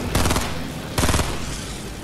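Two loud bursts of rapid automatic gunfire ring out close by in a Fortnite Air Royale match, each a quick rattling volley followed by a lingering echo, with no voices.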